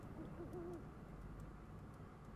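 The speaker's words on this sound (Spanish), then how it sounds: "una lechuza por ahí volando." An owl in the video game Never Alone gives a soft, low hoot that wavers briefly near the start, faint and distant over a steady wind-like background hiss.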